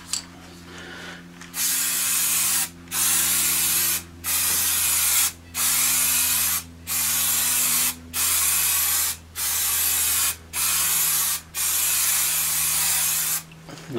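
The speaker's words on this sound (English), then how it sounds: "So we take our spray glue and then spray the backs." A spray glue aerosol can hisses in eight or nine short, even bursts separated by brief pauses, close up over a low steady hum.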